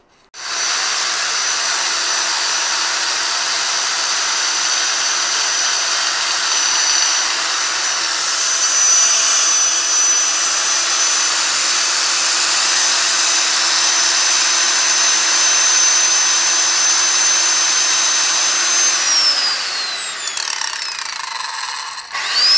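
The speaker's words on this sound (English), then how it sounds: "I'm going to take a grinder and grind off one ear of this, and it should fit in there just fine" An angle grinder cuts away the metal ear of a drop-ear plumbing fitting for a shower install, a loud continuous high whine lasting about twenty seconds before it winds down.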